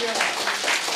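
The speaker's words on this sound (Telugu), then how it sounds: "గట్టిగా దేవుని వాక్యం కొరకు ఒకసారి గట్టిగా చప్పట్లు కొడతాం." Church congregation breaking into loud, dense applause during a sermon, a sustained wash of many hands clapping together with voices mixed in.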